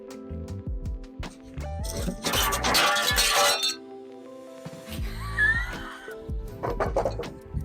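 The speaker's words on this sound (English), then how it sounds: "we want to break the glass in the skip" A glass panel shatters in a skip during a home renovation, with bright crashing bursts, tinkling shards and clinks, along with laughter and background sounds.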